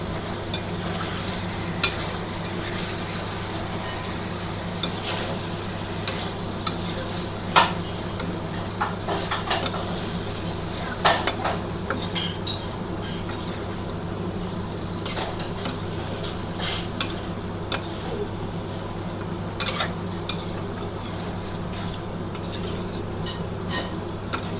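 Ginger garlic paste stirred and frying in a pan, a steady low sizzle with scattered clinks and scrapes of a spoon against the metal running throughout, fairly close and without talk.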